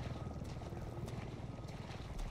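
A helicopter in the video game Resident Evil 7 drones steadily in the distance, a low continuous rotor rumble with faint higher hiss, no talking.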